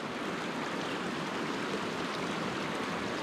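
A mountain river rushes steadily near Mount Russel, a dense, even broadband roar of flowing water with no breaks and no voices.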